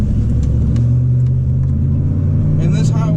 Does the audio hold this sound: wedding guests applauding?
no